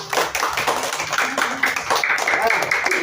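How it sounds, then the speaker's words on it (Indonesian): A group of students claps together outdoors after running practice, with quick uneven bursts of close hand claps mixed with voices and chatter. "Tepuk tangan dulu."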